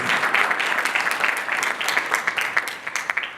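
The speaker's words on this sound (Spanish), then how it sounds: "les pido un aplauso para el Workshop Nacional" An audience at a national workshop in Antofagasta breaks into steady applause, dense overlapping clapping that holds for several seconds and gets slightly more scattered toward the end.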